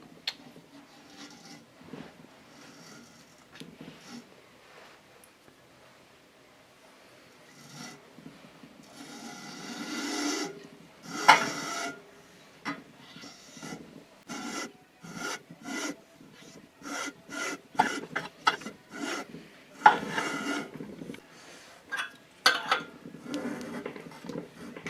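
A thread tap scrapes inside an engine oil passage on a Volkswagen, a close, quiet rasping that builds into irregular bursts of grinding strokes.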